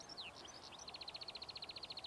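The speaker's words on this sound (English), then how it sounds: "There's only a few birds chirping." Birds chirp faintly outdoors on an evening by an aircraft-viewing mound, with a few quick sweeping calls followed by a fast, even series of repeated high chirps, distant and quiet against soft background hiss.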